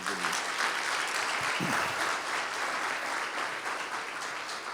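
Sustained applause from a church congregation during a Sunday sermon fills the space, a dense, steady wash of many hands clapping with a brief spoken word over it.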